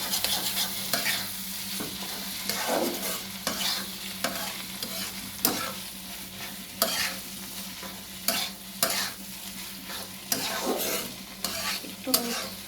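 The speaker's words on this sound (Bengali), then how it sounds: "এখন আমি আরও কিছু দিব, দাঁড়ানো গাজর সিদ্ধ, মটরশুঁটি সিদ্ধ দিয়ে দেবো। এখন আমি এটা মিক্স করবো।" Boiled carrots and peas being stirred into masala in a pan, the spoon scraping in repeated sharp strokes over a steady low sizzle, close and alone with no talking.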